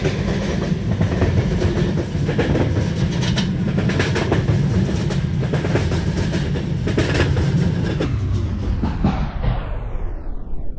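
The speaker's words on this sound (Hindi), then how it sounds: "ये हमने अपनी ट्रेन रेड सिग्नल पे रोक दी" Indian train in Indian Train Simulator rolling steadily with rhythmic wheel clatter and rail rumble, loud and continuous, then braking down toward a halt at a red signal as the sound fades near the end.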